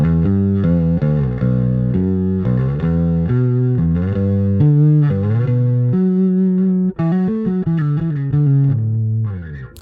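A bass guitar through a Trace Elliot Transit B preamp plays a melodic line with a gritty, distorted tone, sustained notes and slides, loud and close, no talking.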